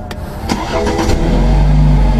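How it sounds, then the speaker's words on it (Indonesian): A 2020 BMW 520i with a 2.0-litre engine cranks briefly and fires up, settling into a loud, steady idle close by. "Kita nyalakan dulu mesinnya."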